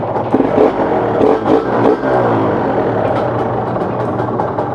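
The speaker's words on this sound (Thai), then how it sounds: "ไปฟังเสียงเครื่อง" A Yamaha TZR150 motorcycle engine runs steadily at idle after an easy start, a close, continuous low rumble with a few brief revs near the start.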